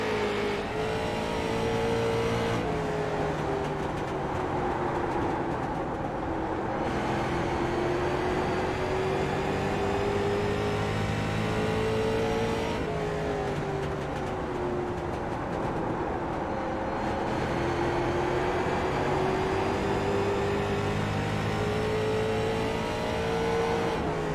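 A race car laps Myrtle Beach Speedway in an IROC series racing sim, its engine droning steadily and rising and falling in pitch through the corners, loud and continuous with no talking.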